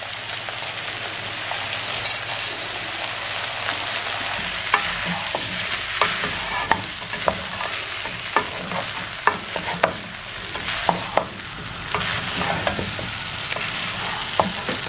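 Rice is stirred into a pot of beef pilau, with a steady sizzling hiss under repeated sharp scraping and clacking strokes of a spoon against the pot, close and rhythmic, with no talk.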